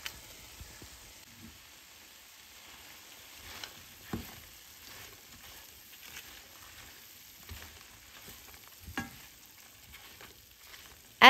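Roasted potatoes frying in a pan, a faint, low sizzle with occasional soft stirring clicks and scrapes spread over several seconds, quiet and close with no voices.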